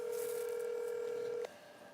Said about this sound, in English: We're going to get Brett on the phone for us.